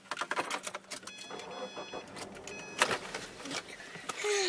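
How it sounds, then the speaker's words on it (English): A car engine cranks and turns over on a roadside near a Yellowstone bear, with clattering and rustling in the cabin before a brief faint voice near the end. "Start the car engine, Dari."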